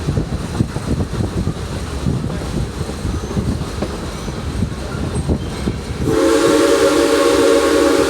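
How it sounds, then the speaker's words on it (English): A train rattles along with clickety-clack rhythm, then a loud, sustained steam whistle blows over the rumble for the last few seconds. "Listen for the whistle of our steam locomotive, which will indicate our approach."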